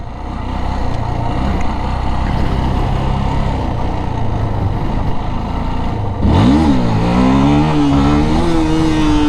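A motorcycle engine drones steadily, then the rider opens the throttle for a wheelie and the revs climb sharply in a loud, rising roar that wavers and holds.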